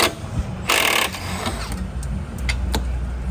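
Wrench work on a sway bar link's 16 mm nut on a BMW M4, with a bright ratcheting burst near the start and a few sharp metallic ticks later, close up over a low garage hum.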